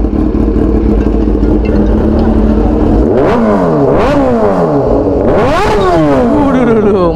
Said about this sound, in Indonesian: Dilan ngegas A2.